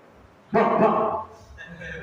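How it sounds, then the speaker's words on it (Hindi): A dog gives one loud, close bark or yelp with harmonic ring, followed by quieter background sound. "आप चैंटिंग कर रहे हैं, कुत्ता भौंक रहा है"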